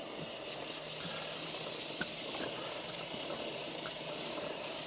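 Chain lube sprayed onto the drive chain of a Kawasaki Versys 650 LT motorcycle, cardboard laid underneath: a steady, close, hissing aerosol spray that runs continuously with almost no pause.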